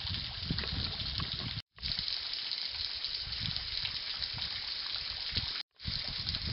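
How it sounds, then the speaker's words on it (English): Water from a small waterfall in a hollow ringed by tall cliffs, after heavy rain, rushes and splashes as a steady broadband wash that runs on without a break apart from two brief cutouts. "I've came across another small waterfall with a small amount of water coming off of it."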